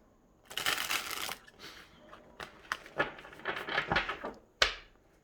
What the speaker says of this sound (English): We're just going to shuffle these so we can go on to pile